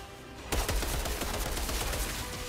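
Rapid automatic gunfire from the video game Outriders bursts in after a brief quiet start, a loud, dense string of shots with no talking.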